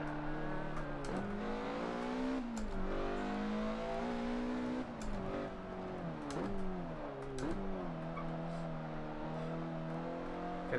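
Simulated Mazda MX-5 race car in Forza 7 lapping a circuit, its engine note climbing and dropping steadily through gear changes and braking into corners, loud and continuous with no talk.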